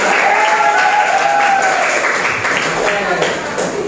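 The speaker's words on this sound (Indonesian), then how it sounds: "Oke, tepuk tangan bersemangat." A school class claps hands enthusiastically, a loud burst of many hands applauding together at close range, fading slightly toward the end.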